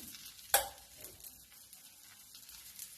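Oil poured onto an upvas dosa cooking in a hot pan gives one sharp, close hiss, then a soft, steady sizzle with no talking.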